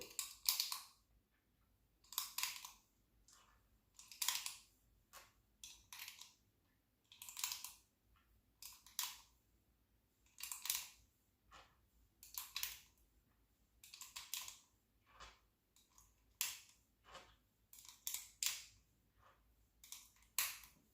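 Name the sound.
loading rounds into Taurus GX4 15-round pistol magazine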